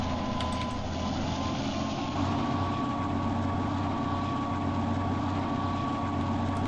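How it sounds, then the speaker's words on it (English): A locomotive engine runs in the Trainz simulator, giving a loud, continuous diesel drone with a steady pitch and no speech over it. "Oh, listen to that engine."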